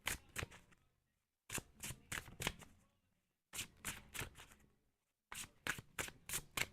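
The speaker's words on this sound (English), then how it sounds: "I'm going to pull 3 cards, you guys." Tarot cards are shuffled by hand in four separate bursts of rapid riffling and slapping, each about a second long and close, with short silent gaps between them.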